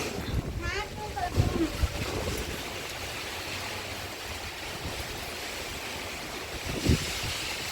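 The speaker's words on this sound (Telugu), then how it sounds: "చూడండి, పెద్ద వర్షం." Dense, steady rush of heavy rain with wind buffeting the microphone, and a few brief voices and knocks near the start.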